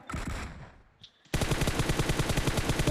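Rapid automatic gunfire in a shooting video game, a dense rhythmic burst of shots bursting in loudly after some brief muffled sounds and a short pause.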